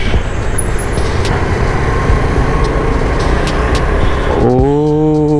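Road traffic noise rushes past while riding a Kawasaki H2R superbike at holiday rush hour, a dense steady wash of vehicles, with a horn-like tonal blare near the end.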